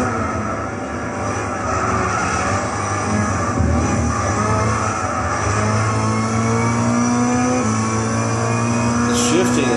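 A turbocharged Honda S2000 GT1 race car in Gran Turismo 6 at Silverstone runs loud and continuous, its engine note dropping and climbing again through quick gear shifts.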